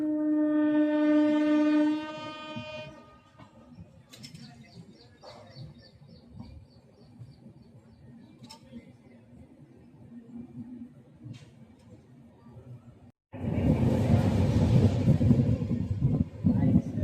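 An express train running at speed, its horn blaring a long tonal blast at the start, then a steady rolling rumble with faint chirps, before a loud roaring rush of noise takes over near the end.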